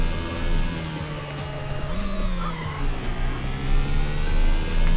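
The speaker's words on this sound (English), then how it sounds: "Listen to that sewing machine V12." A Lamborghini V12 in the racing game Need for Speed 3 gives a loud, continuous, high, thin engine whine that holds steady with slight pitch wavers and a brief dip, with a tire screech mixed in.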